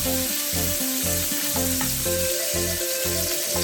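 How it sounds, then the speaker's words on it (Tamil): Chopped curry leaves sautéing in a hot pan for an egg puff filling give a constant loud sizzle, with a steady repeating scrape of the stirring spoon against the pan and no voices. "கருவேப்பிலை கட் பண்ணி வச்சு போட்டுக்கலாம். நல்லா வதக்கணும், பொன்னிறமாக வதக்கணும்."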